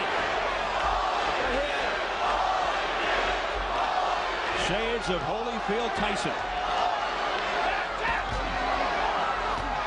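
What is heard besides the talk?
boxing crowd cheering, urging Holyfield on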